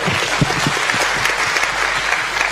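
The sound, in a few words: applause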